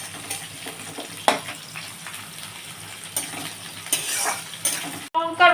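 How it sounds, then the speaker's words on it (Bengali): Garlic, onion and green chilies frying in oil for a fish-oil and vegetable dish, with a soft sizzle punctuated by utensil clinks and stirring scrapes, ending in a brief louder clatter. "এবারে আমি পেঁয়াজ কাঁচা লঙ্কা সব দিয়ে দিচ্ছি একসঙ্গে, ভাজা হয়ে গেছে রসুনটা, একটু ভাজা হবে"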